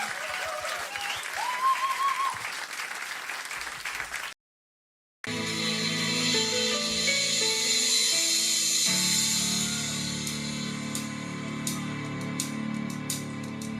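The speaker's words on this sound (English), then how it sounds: "Applaudiert bitte auch für die Band, die sind der Wahnsinn." A concert audience applauds for the band at a country music show. Sustained clapping and crowd noise swell after a brief break, with stage sounds mixed in and the clapping fading toward the end.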